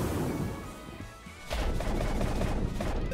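Whirlpool attack in the game Nexomon Extinction, a loud crashing, rushing burst of noise that swells after a quieter lead-in and churns steadily to the end.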